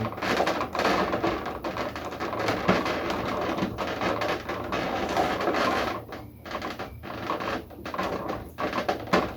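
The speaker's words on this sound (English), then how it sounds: "a British man grunting and squeaky plastic" Plastic parts of an anime figure of a female King Arthur being assembled, a run of small clicks, creaks and rubbing taps in irregular bursts, close up, with occasional quiet gaps.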